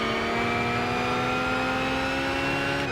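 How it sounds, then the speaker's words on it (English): Car engine in the Gran Turismo 5 racing game, a steady mid-pitched drone with a slowly rising tone as the car accelerates, continuous and close throughout. "the sound in this car, it's really not that high-pitched whining"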